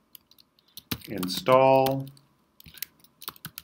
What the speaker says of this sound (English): open up your terminal and type in the command pip